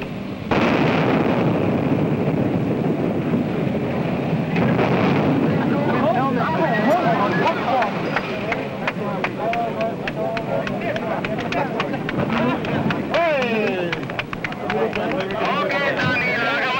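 An explosive demolition blast brings down an industrial smokestack: a sudden loud burst followed by a long, sustained roaring rumble of collapse, with excited people talking throughout.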